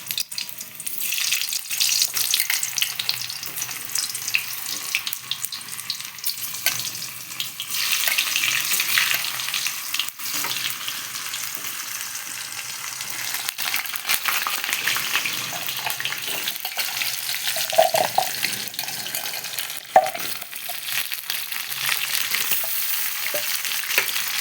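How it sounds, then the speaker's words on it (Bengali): Potatoes fry in hot oil in a wok with a loud, continuous sizzle and crackle, broken now and then by stirring and scraping, close up and without talk. "এখন তেল দিয়ে আমি আলুগুলোকে লাল লাল করে ভেজে নেব।"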